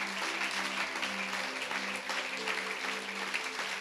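A church congregation claps together in a steady, dense wash of applause lasting several seconds at moderate loudness, with a faint tonal hum underneath.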